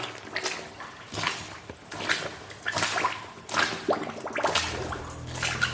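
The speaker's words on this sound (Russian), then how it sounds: "слышно, как поднимаются пузыри воздуха из-под них" Air bubbles rising from under wooden boards in a flooded, abandoned mine adit, heard as repeated soft watery gurgles and drips in bursts roughly every second, close and fairly quiet.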